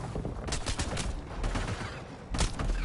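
Rapid gunfire in a PS4 video game, quick clustered bursts of shots close and loud, with a sharp volley near the end.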